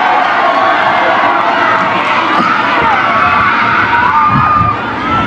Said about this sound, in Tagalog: ganyan pa rin ang sigaw namin. Manny, Manny, Manny